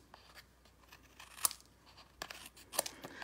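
Scissors snip the ends off punched paper labels, two crisp close cuts with faint rustling of paper between them in an otherwise quiet room.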